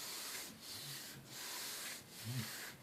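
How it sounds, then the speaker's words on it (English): Steady rubbing and scraping as a vinyl decal is pressed down slowly onto a surface with a hinge-method application, a soft continuous friction close up with brief pauses, no talk. "So you want to rub it down slowly. Don't just let it fall. And rub it down all the way to the edge."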